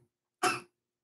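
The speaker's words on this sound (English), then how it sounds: "Will you stop coughing?" A single short, sharp cough rings out close by after a brief quiet moment, with nothing else around it.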